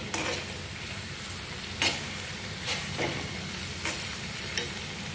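Crushed garlic frying in oil for Andhra mango pickle, a continuous crackling sizzle with a few sharp scraping stirs of the pan.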